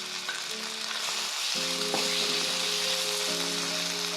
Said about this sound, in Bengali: প্রথমে দিয়ে দেবো আদা রসুন বাটাটা।